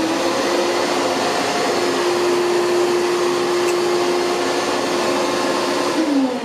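Shop vacuum pulling suction through a refurbished sand blasting cabinet, a loud steady roaring whoosh with a sustained hum running throughout, the pitch dropping slightly at the end, close and with no talk.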